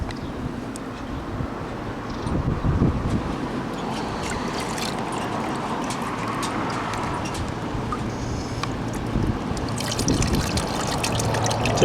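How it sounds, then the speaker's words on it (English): Water swirls and sloshes in a gold pan during panning, making soft trickling and splashing that rises and falls at close range, with occasional light scrapes and no speech. "So swirl it back a little bit till I start seeing some gold."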